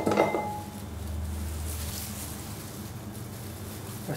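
Ground chicken and burger bun mixture scraped from a grinder jar into a bowl, a few metal clinks and scrapes at the start, then a low steady rumble, close and without talk.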